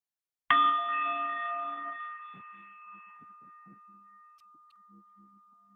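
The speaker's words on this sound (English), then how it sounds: "listening for the sound of the bell to softly open your eyes" A single meditation bell is struck once and rings out clearly, its bright tone decaying slowly over several seconds, with faint soft knocks and rustles beneath the fading ring.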